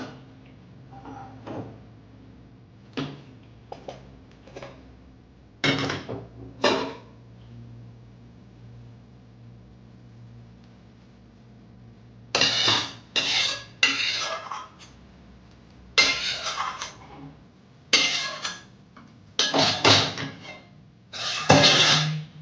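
Cooked kochu vetki, a taro-stem dish, is poured out of a pan with a spoon, giving scattered metallic scrapes and clanks that come in short irregular bursts and grow busier and louder in the second half.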